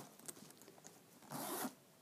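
A single quick pull of a wax-paper-treated zipper on a Dooney & Bourke Shelby Shopper bag, a short close raspy zip lasting under half a second after quiet handling sounds.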